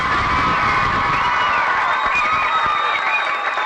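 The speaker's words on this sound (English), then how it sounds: "Please, a big round of applause now for Martin Gallagher." Crowd at the opening of the 1983 Lifford Festival gives loud, continuous applause mixed with cheers and whoops, a dense steady roar held at full level throughout.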